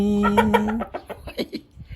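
A rooster entered in a show competition crows once, a drawn-out call followed by a run of short clucking notes, close and fairly loud.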